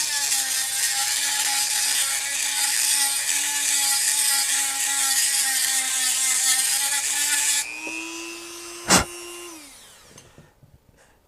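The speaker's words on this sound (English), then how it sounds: "we're going to get a Dremel. This has got sort of a conical shaped grinding bit on it." A Dremel rotary tool fitted with a conical grinding bit runs at a steady high-pitched whine while bevelling the inside of a toy gun barrel to crown it, with the pitch shifting near the end before a sharp tick and spin-down.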